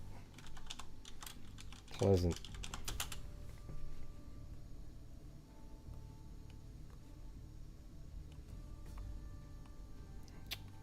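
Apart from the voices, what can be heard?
typing on a loud computer keyboard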